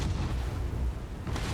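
Mech weapons firing in MechWarrior 5, a dense, rumbling, continuous barrage with heavy low booms and a sharper burst near the end, loud and close.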